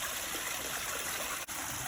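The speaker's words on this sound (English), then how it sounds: "But that's a really nice waterfall, I have to say." Water pours steadily over a backyard pondless waterfall, a constant close splashing rush with no pauses.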